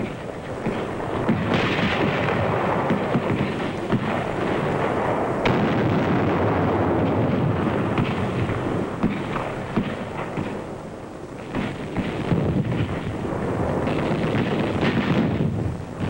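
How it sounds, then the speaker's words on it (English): A World War II artillery barrage fires at Kwajalein, a dense, continuous roar of overlapping blasts and rumbling booms that swells and dips across the whole stretch, with no voices. "It took only a few moments of firing to empty these shell cases."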